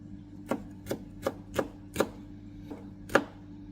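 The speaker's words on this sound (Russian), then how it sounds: "И нарежем мелко его, чтобы он хорошо распределился" Knife finely chopping green hot pepper on a cutting board, seven crisp, evenly spaced taps close by, with nothing else heard.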